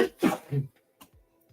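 A single sharp sneeze bursts out, followed by a short pause and a softer breathy sound trailing off.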